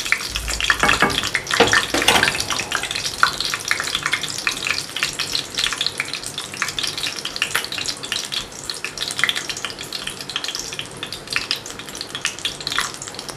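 Chicken cheese sandwich frying in a pan over low heat, a steady soft sizzle with crackling bursts running throughout, no voices.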